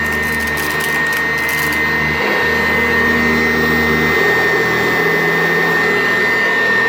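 A Sanitaire SC887B commercial upright vacuum cleaner runs continuously over carpet, a loud, steady motor drone with a high whine and no pauses.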